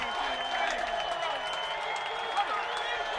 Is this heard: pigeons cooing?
no